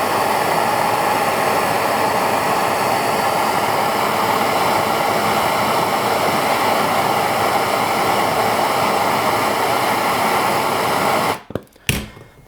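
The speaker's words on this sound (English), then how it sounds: "So what I'm going to use here is my propane torch. Actually, it's a MAP torch." A MAP gas torch burns with a loud, steady roaring hiss, heating a snowblower starter rope on an 8-10HP Tecumseh engine; it runs alone for about eleven seconds before being shut off with a few sharp clicks.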